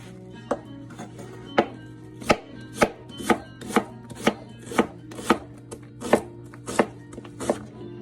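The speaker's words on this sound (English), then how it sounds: "There's your diced onion." A knife dicing an onion on a cutting board, with about a dozen crisp, evenly spaced chops landing close and loud over a quiet kitchen background.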